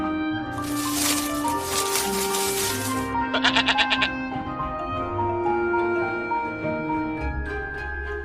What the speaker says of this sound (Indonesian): Ada domba jantan yang tanduknya tersangkut di belukar.